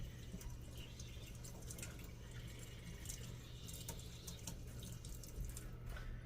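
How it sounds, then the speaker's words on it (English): Running tap water during a quick hand rinse in a home kitchen, a faint, steady splashing stream with small irregular spatters throughout. "let me do a real quick hand rinse here"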